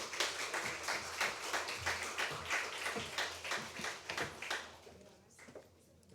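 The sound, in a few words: audience applause welcoming the speaker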